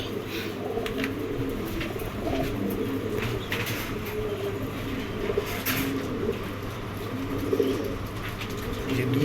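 A pair of foreign racer pigeons with two chicks coos in soft low rounded tones, heard continuously at moderate volume over steady background noise, with a few brief higher bird chirps.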